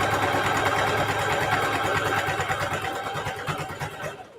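Sewing machine back stitching a seam with a 1/8 inch seam allowance on a fabric handbag, a fast steady mechanical whir with rapid needle pulses, close and loud, slowing slightly before stopping.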